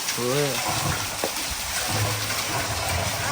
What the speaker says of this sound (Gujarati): આ બાજુ પાણી આવી ગયું ને ભરાવાનું ચાલુ થઈ ગયું હોય